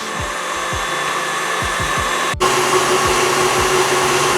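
An electric mixer whips egg whites to a frothy stage, a loud continuous motor whir with rhythmic low thumps of the beaters against the bowl and a brief dip midway.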